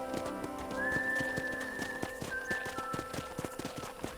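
Horse hooves clip-clop in the Western video game Red Dead Redemption, an even trot of close, crisp beats on hard ground with a whinny and a faint whistle over it.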